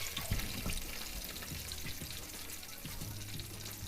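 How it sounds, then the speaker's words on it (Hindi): Eggplant frying in a pan over medium-high heat for a village-style baingan masala fry: a continuous, fairly quiet sizzle with a few light stirring knocks and no speech. "मीडियम हाई हीट पर आपने इनको फ्राई करना है।"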